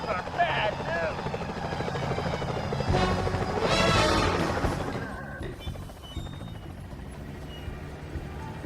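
Security helicopters in the video game Sly Cooper: Thieves in Time, a loud rotor roar swelling to a peak midway and then easing off, with voices and game sound around it.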